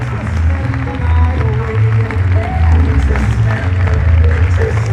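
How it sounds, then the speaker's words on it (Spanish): A seated audience claps to welcome guests onto a stage, and the applause runs steadily throughout. Low voices and shuffling movement blend in underneath. "Vamos a recibir con un aplauso, por favor, a Lorenzo Caprile y Miquel López Iturriaga."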